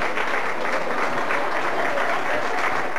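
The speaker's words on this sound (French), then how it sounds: "Encore les applaudissements bien fort." An audience at a La Garenne School end-of-year show from 1996-1997 claps steadily and densely from start to finish, a full room of applause with no break.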